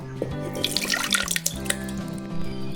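Water poured into pearl millet porridge (kambu koozh) to thin and dissolve it, a steady close splashing and trickling pour with small drips, no talking.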